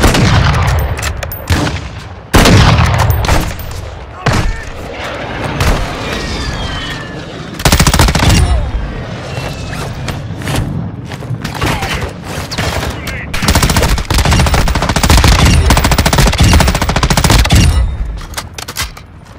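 Heavy, nearly continuous gunfire rattles through a Call of Duty DMZ firefight, with overlapping automatic bursts and booming shots loud and close, plus occasional voices mixed in.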